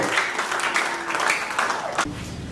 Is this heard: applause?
yes